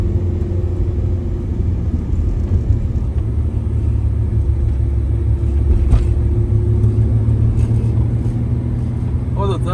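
Car engine pulling uphill in third gear at about 4000 rpm, a loud steady low drone with a constant rumble that holds for the whole stretch, and a brief knock partway through.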